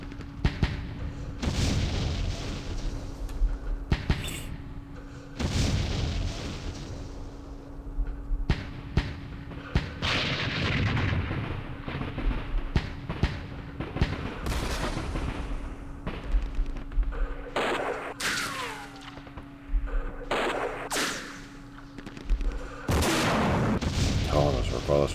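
Recoilless rifles firing in the wargame Campaign Series Middle East, a series of loud booming shots and blasts spaced irregularly, with a voice talking at times between them.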